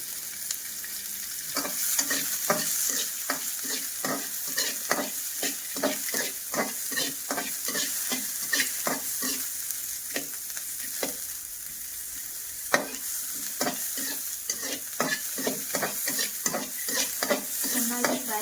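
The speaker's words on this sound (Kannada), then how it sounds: "ಫ್ರೈ ಆಗೋಕ್ಕೆ ಸ್ವಲ್ಪ ಎಣ್ಣೆ ಹಾಕೋಣ." Mutton methi masala fries in oil in a pan, a constant sizzle broken by repeated scraping strokes of a spoon stirring at an uneven rhythm.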